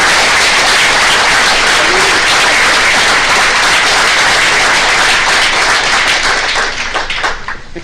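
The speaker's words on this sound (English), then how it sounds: "So how about a round of applause?" Loud, dense applause fills a school board meeting room in Gloucester Township, a steady wash of many hands clapping that thins and fades toward the end.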